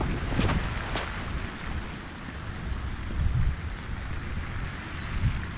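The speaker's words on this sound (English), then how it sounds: "A little bit of headwind." Outdoor wind rumbles and buffets the microphone in a steady, close, low roar with a few stronger gusts during a disc golf round, with no talking.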